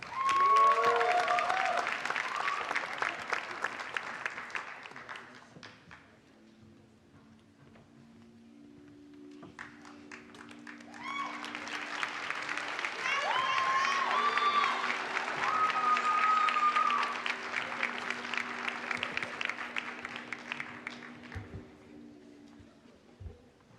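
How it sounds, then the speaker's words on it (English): A graduation ceremony audience applauds in two waves, a loud burst that fades into a quieter gap with a low sustained hum, then a second swell of clapping that tapers off. "Let's give another round of applause for our Power Snap scholars."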